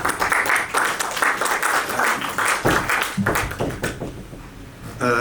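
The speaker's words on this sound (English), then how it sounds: "I think they deserve a thunderous round of applause." An audience gives a round of applause at a tech meetup, a continuous dense patter of clapping that holds steady and close throughout, with no talk over it.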